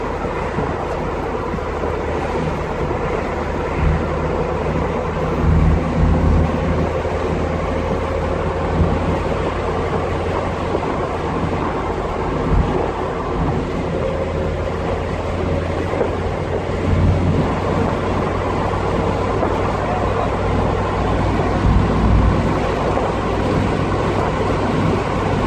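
A Toyota AE86 with a freshly rebuilt rear differential drives along a road, heard from inside the cabin as a steady, loud low rumble of engine and road noise with occasional bumps and no talk.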